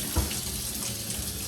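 Water gushes steadily from the hot-side supply line of a 1960s shower during demolition, fed by an attic water heater, a loud, close continuous rushing with a small thump near the start.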